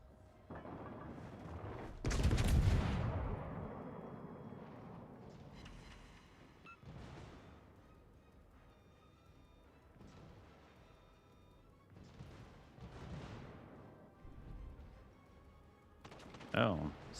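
Naval gunfire in the World of Warships: Legends game, heavy booming salvos and crashes scattered at intervals, one loud burst early and another near the end, with someone talking between shots.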